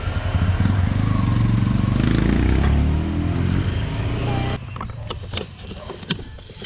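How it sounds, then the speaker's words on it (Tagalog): A motorcycle test-ridden after an engine flush revs loudly nearby as it pulls away through the gears, with a rough mechanical rattle, then drops to a quieter, uneven idle with clicks and knocks near the end. "tinesting muna niya yung kanyang motor kung maganda na yung pasok ng gearing"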